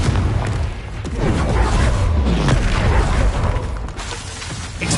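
Explosive blasts from the Confringo fire spell in Hogwarts Legacy, a dense run of loud booms and bursts rolling continuously through the fight with no pause.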